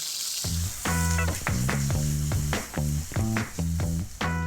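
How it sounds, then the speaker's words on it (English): Ingredients sizzle in a little sesame oil in a pan while being kept moving, a steady frying hiss under rhythmic, tonal background music throughout. "Just a little bit of sesame oil into a pan."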